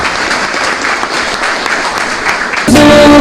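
An audience at a church gathering claps in steady applause for a couple of seconds before it gives way abruptly to loud music.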